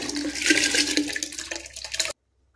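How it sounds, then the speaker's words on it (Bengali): Soaked rice tipped into a pot of water, a close, steady rush and splash of grains and water lasting about two seconds, then cutting off abruptly to silence. "এবার সমস্ত চাল এখানে আমি দিয়ে দেবো"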